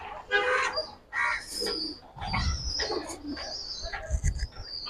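Giribaz tumbler pigeons in a Bengali fancier's collection cooing in low, throaty bursts, with wing flaps and chirps nearby while someone talks in between.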